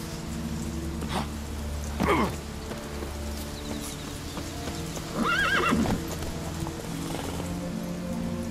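Horse hooves in The Witcher video game clip-clop at a gallop, with two loud whinnies breaking through and a soft rain-like patter underneath.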